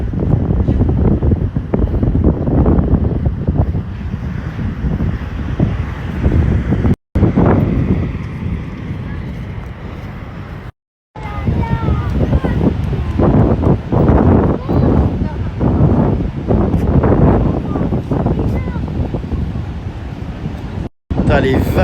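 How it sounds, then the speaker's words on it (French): Ocean waves and wind at Hossegor in the Landes, with big surf pounding near a seawall, a continuous loud rumble of breaking water and wind buffeting the microphone, and people talking over it throughout. "Putain, les vagues."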